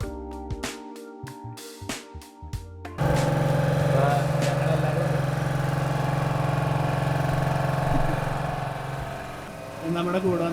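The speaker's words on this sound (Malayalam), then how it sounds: "നമ്മൾ ഈ ബോട്ടിലാണ് കയറി പോണത്." A private boat's engine starts up after a few seconds and runs with a steady, close, droning hum for the rest of the crossing, easing off near the end.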